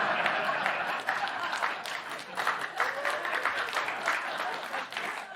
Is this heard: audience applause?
yes